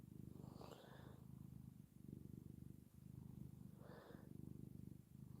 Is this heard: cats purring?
yes